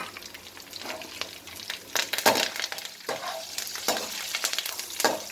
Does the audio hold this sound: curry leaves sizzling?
yes